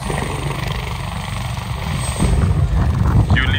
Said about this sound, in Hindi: एक हेलीकॉप्टर यहां कहीं लैंड करने वाला है हमें लेने के लिए